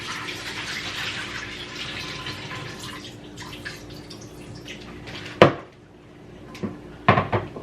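Cold water runs from a tap over frozen shrimp in a kitchen, a steady hiss that fades midway, followed by a sharp clatter and a few clinks and knocks.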